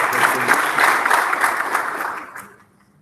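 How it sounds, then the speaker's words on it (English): An audience at a waste innovation challenge launch at a university gives a round of applause, a full steady wash of clapping that tapers off and fades to near silence. "can you give her a round of applause, please?"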